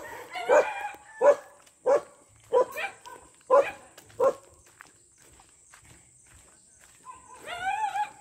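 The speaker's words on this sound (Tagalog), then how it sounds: "Daming aso din dun." A string of dogs barking in the open along a long walk to the sea, six loud separate barks at steady intervals, then a higher whining yelp at the end.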